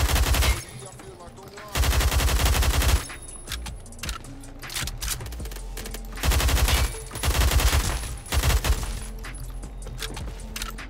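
AUG A1 rifle fire in the Roblox game Phantom Forces, loud rapid automatic bursts broken by short pauses, several sustained strings of shots up close with faint talk at times.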